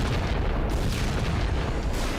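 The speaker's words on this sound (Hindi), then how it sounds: "इजरायल ने खान यूनिस इलाके पर जबरदस्त बमबारी शुरू कर दी है" Israeli bombardment in Khan Younis, southern Gaza: deep, rumbling explosive booms roll continuously through a dense, muffled low-end roar for a couple of seconds, with no speech.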